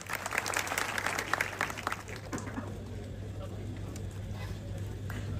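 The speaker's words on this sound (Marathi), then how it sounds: "टाळ्या करा त्या लेकरासाठी" A crowd at a Maharashtra Kesari style kushti wrestling event claps loudly in a burst over a few seconds, then thins to scattered claps over a low steady hum and murmur.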